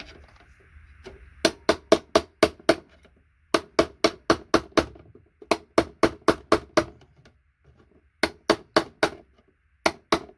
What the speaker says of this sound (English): I'll remove them with a chisel